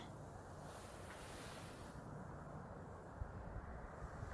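Steady ocean surf roars continuously with broadband wash on a black-sand beach, mixed with wind buffeting the microphone; no voices are heard.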